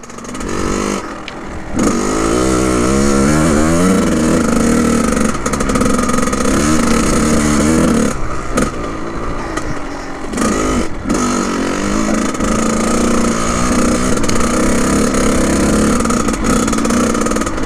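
A Kawasaki KX 100 dirt bike engine revs loudly and pulls away, its rising buzz settling into a continuous close, rough drone with brief gaps and clattering.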